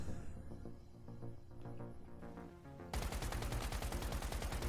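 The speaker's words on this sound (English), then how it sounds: "Test out the range of the assault rifle a little bit." Assault rifle fire in the survival shooter Once Human, a fast rhythmic burst of repeated shots over a busy game background, growing louder and more continuous partway through, with no talk.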